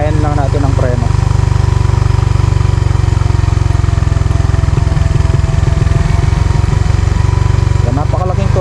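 Vehicle engine running steadily while descending a steep slope, a loud continuous low drone with a throbbing pulse, changing slightly in texture partway through.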